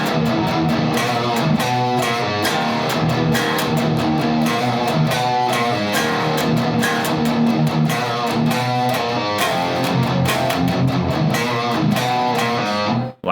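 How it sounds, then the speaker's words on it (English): Heavy distorted electric guitar plays the second-section riff of a song, a dense, continuous, loud rhythmic chug with ringing chords, running steadily alone before cutting off at the end. "So I've put some distortion on my guitar and it kicks into this second section that sounds like this."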